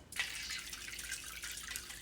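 Hot rendered tallow drips and trickles through a fine mesh strainer, a steady close hiss of running liquid that starts abruptly and continues unbroken, with no talking.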